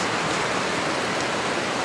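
Floodwater surges through a village, a continuous loud rushing roar with no letup over a couple of seconds.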